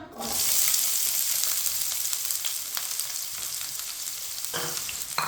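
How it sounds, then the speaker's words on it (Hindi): Finely chopped onion sizzles in two spoons of hot oil for a chicken dish, a loud steady frying crackle close up with a few stirring scrapes near the end. "2 चम्मच ऑयल, 1 प्याज बरीक कटा हुआ"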